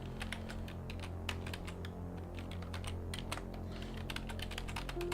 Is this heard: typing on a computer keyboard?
yes